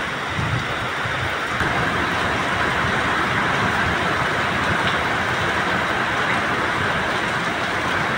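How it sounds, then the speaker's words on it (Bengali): Heavy rain pours in a dense, constant hiss, with a low rumble of passing traffic underneath throughout; steady and close with no voices. "প্রচুর বৃষ্টি"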